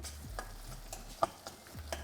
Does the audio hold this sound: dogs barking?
no